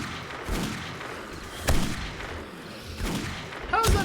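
Several gunshots from the survival horror video game 7 Days To Die, sharp cracks spaced irregularly over a few seconds, the last one loud and close, with a dull background ambience between them.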